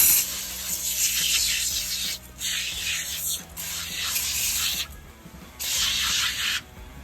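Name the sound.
shaking and spraying Super Clean degreaser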